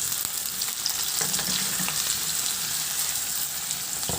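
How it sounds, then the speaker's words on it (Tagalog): Onion sautéing in oil in a frying pan, a steady close sizzle with a few soft stirring scrapes partway through, no voices. "Maglagay muna ako ng mantika sa kawali at igisa ko na rin yung sibuyas."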